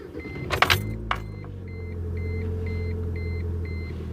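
Car engine started with the ignition key: a couple of sharp clicks and a brief cranking burst, then the engine catches into a steady low idle rumble while a door-open chime beeps repeatedly, close and loud.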